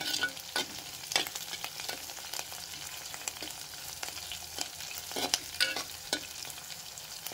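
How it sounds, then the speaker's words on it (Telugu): Green chilies frying in a pan for chutney, a continuous crackling sizzle dotted with sharp pops and stirring scrapes, close and without talk. "కొంచెము పచ్చిమిర్చి వేగనిద్దాము"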